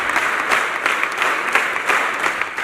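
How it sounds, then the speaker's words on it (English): Crowds of participants clap continuously at a record-breaking clapping event in Uganda, a loud, thick wall of applause with faint rhythmic pulses running through it and no speech on top. "Participants engaged in a spirited clapping at varying intensities throughout the duration of the record-breaking"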